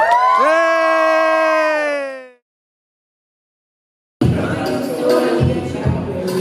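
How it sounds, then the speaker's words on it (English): At a talent show final, a long sustained, wavering high vocal note opens and then cuts to silence. After the pause, a lively crowd erupts in cheering, whoops and shouts that carry on loudly to the end. "Everyone cheer for Siddity."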